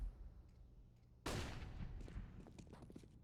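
A flashbang grenade pops sharply in a Counter-Strike match on the Mirage map. The sudden bright burst is followed by a ringing wash and scattered gunfire-like clatter, and no voices are heard.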